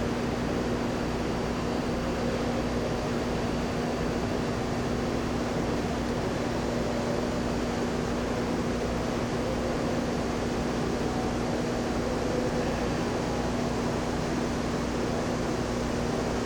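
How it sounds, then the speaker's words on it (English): Okuma GU-34T CNC OD/ID cylindrical grinder with its main spindle running at full speed, a steady, even mechanical hum with a constant tone held throughout, no voices. "And that's full speed for the main spindle."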